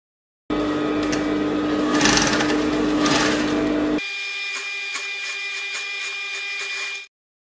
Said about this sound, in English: place it on top of each other, right side to right side, and then you're going to stitch it down.